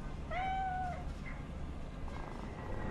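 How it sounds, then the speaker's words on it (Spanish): An Egyptian cat in Cyberpunk 2077 gives one clear, drawn-out meow near the start, then a shorter faint mew, over a steady low game ambience. "es un gato egipcio de esos"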